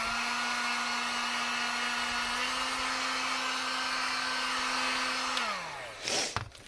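A heat gun blows a steady, loud whirring roar while warming an EVA foam mask, holding an even tone for about five seconds before the motor winds down and clicks off, followed by a brief rustle.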